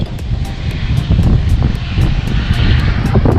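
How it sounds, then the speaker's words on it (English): Fixed-wing airplane passing low on its approach near an airport on the Matagorda coast, a loud, close, continuous engine roar with wind buffeting, no talk. "But look, plane."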